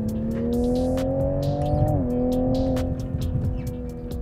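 The engine of a 2021 Toyota Supra with an automatic dual-clutch gearbox drones under hard acceleration, heard from inside the cabin as a steady, slowly rising hum with a brief dip partway through.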